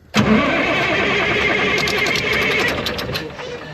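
The diesel engine of an ex US Army Caterpillar D6R bulldozer cranks and catches, then runs on as a loud, steady, rough rumble close by.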